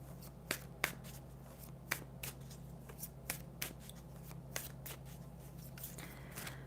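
Tarot cards being shuffled and drawn at close range, a series of about a dozen crisp snaps and flicks at an uneven pace, with no talking.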